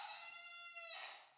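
A mother Silkie hen at someone's feet lets out a nasal, rasping, sustained call with a brief break before a final rising squawk, close and fairly soft.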